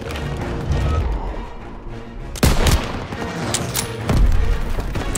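Loud gunfire and heavy blasts in Call of Duty: WWII on a battlefield street, scattered shots over constant rumble with two sharp, booming bursts close by.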